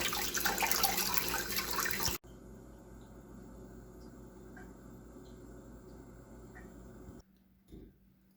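Cold tap water runs steadily into a sink to thaw frozen food, a constant splashing hiss that cuts off abruptly, gives way to a quieter trickle, then falls to near silence.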